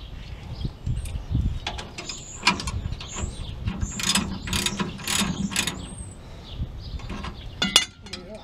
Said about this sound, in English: I'm just going to use the axle to hold the ratchet and just start snugging.